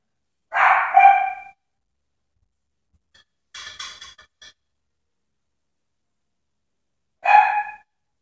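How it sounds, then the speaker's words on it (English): Dog barking off in the background of a home kitchen while eggs cook: three separate bursts of barking spread out with long quiet gaps, the middle one softer. "Dog is still barking."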